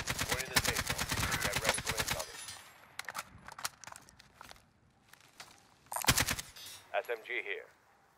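Warzone gunfire: a long loud automatic burst, then scattered single shots and distant pops, another close burst, and a short crackling sequence, with voices talking between.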